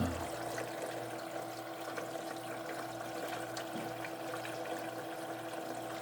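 A EUHOMY LunaArc Crescent countertop ice maker runs with water inside, giving a steady close hum with a constant tonal drone and a soft watery wash that holds level the whole time, with no talking.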